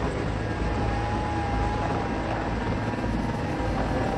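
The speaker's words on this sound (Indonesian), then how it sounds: "CH-53 Super Stallion adalah helikopter angkut berat bermesin 3 yang dikembangkan oleh perusahaan Amerika, Sikorsky Aircraft" A Sikorsky CH-53 Super Stallion, a three-engine American heavy-lift helicopter, gives off a steady, dense rotor and turbine drone at an even loudness throughout, with no voices.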